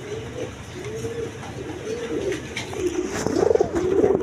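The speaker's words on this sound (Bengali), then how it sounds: "দর্শক এখানে এক পেয়ার কবুতর আছে দেখেন, একদম বিগ সাইজের নর মাদি, সেম টু সেম।" A pair of large pigeons, male and female, coo repeatedly in soft rhythmic rising phrases, close by over a faint background hum, with the calls growing slightly louder toward the end.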